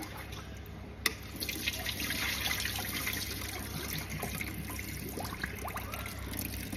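Japanese yam rinsed under a cold running tap, a steady moderate stream of water pouring and trickling continuously with faint splashing, no voices.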